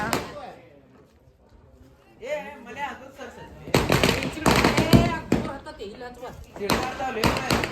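A rapid string of loud firecracker bangs crackles nearby at a Ganesh festival celebration after a quieter stretch, with people talking over the noise.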